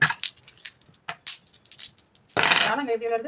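Small stones clack and tap as they are tossed and dropped during a kallangkai five stones game, a series of sharp, close clicks spaced irregularly, followed by a burst of talking and rustle near the end.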